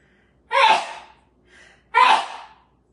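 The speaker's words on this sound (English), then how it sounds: "I gotta sneeze." A person gasps sharply twice in close succession, heard close and loud with a soft breath between, fitting a sneeze that does not quite come out, in a quiet kitchen.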